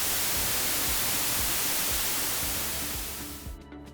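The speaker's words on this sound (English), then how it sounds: "the sound called white noise will make baby fall asleep" Steady broadband hiss of white noise from a baby sleep-training device, shown at CES 2021, runs evenly and fairly loud before dropping away near the end.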